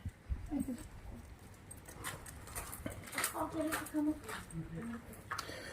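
A small dog whimpers and yips in short, high cries, with people talking nearby.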